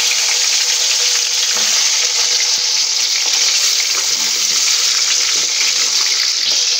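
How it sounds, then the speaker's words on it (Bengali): Pointed gourd (potol) frying in plenty of oil gives a loud, constant hissing sizzle close by, with occasional faint stirring taps throughout. "এই যে এখন পটল ভাজছে।"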